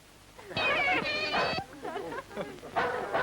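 A mangy cat gives a series of loud, close, drawn-out meows, two long wails followed by shorter cries and a final rising meow.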